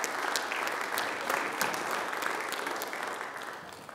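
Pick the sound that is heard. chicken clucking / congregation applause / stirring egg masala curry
congregation applause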